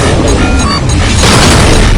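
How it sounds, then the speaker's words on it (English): A missile explodes in the space combat game Rebel Galaxy 2: a loud, sustained booming blast with rumbling debris that fills the whole two seconds, with no voices over it. "Missile inbound."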